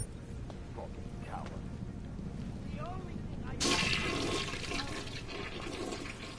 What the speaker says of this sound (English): I can use their bathrooms.